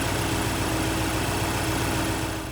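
A Mercedes 300 SEL 6.3 V8 in the 109 chassis idles steadily with a continuous, even engine hum, close and unbroken, with no voices.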